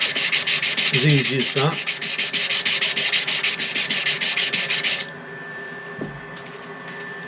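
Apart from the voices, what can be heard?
sanding pommel of Coke bottle knife handle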